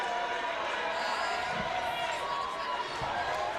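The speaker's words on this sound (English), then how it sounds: "You hear the sideline and the audience cheering him on." Audience and sideline players at a Canadian national dodgeball championship cheer and shout in a steady crowd roar, with occasional ball thumps and a commentator talking over it.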